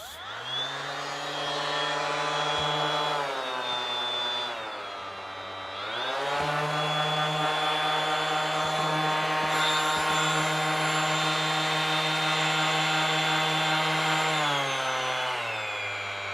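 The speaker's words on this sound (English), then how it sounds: "we actually have speeds on this sander, so it's not just an on and off" A Ryobi 18V One+ HP compact brushless sander runs loudly and steadily close by, its motor whine dipping briefly around the middle as the speed setting changes, then holding a constant tone to the end.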